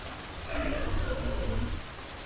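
Rain falls outdoors in a steady, soft hiss of drops on surfaces, moderately faint and continuous throughout with no voices.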